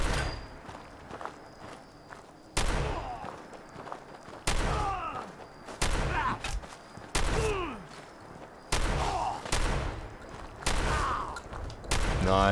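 Gunfire in Fallout 4's Far Harbor expansion: repeated sharp loud shots every second or two with ringing tails, interleaved with footsteps and game ambience.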